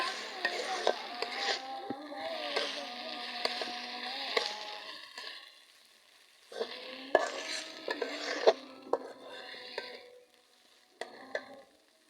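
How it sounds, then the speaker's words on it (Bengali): Chopped tomatoes are stirred into a frying mixture in a pan for a dal with okra, bursts of sizzling and spoon scraping separated by brief quiet pauses, fairly soft overall, with no talking. "দুটো টমেটো কেটে রেখেছিলাম, ওটা এটা মিশিয়ে নেব"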